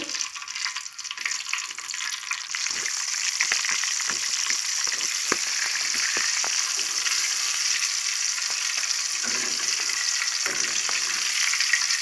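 Dried chillies fry in the oil left over from frying banana blossom, giving a loud, steady, close hiss with small crackles throughout and no voices.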